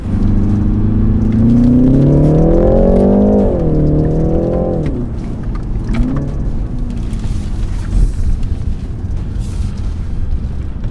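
A BMW engine revs up and down as the car drives, a loud droning rumble that rises in pitch, then eases off into quieter road noise.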